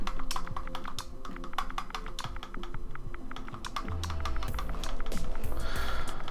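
Rapid, steady clatter of keys on a computer keyboard, close and fairly loud, with an even run of individual keystrokes throughout.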